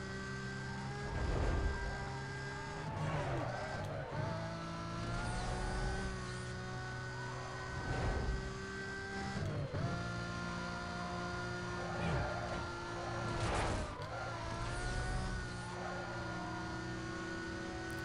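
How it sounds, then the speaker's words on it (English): A Porsche engine in the racing game Need for Speed: Most Wanted drones and revs as it closes in, sustained tonal engine hum with repeated surges rising and falling over a steady bed of car noise. "Somebody's catching up here. Sounds like a Porsche."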